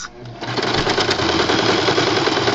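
A sewing machine runs steadily, stitching through thick, tough fabric patches while a checkerboard is being made, its continuous rapid mechanical whir close and loud throughout.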